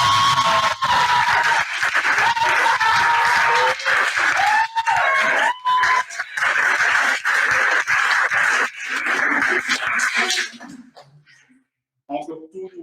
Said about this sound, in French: Encore tout plein d'applaudissements